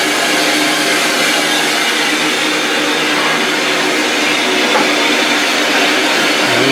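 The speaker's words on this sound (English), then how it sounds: "This is our own locomotive. Number 25 Northian." Heritage railway locomotive No. 25 Northiam on the Kent and East Sussex Railway during a Santa train run: a steady, loud, broad rushing hiss and drone that holds constant throughout, with no speech.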